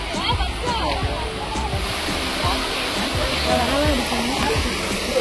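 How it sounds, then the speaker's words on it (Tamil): Vattakanal waterfall in Kodaikanal, running with a reduced flow in a dry spell, a steady broad rush of falling and splashing water throughout, loud and continuous with a voice faintly over it. "இதுதான் வந்து பார்த்தீங்கன்னா வட்டக்கனல் ஃபால்ஸ் அப்படின்ட்டு"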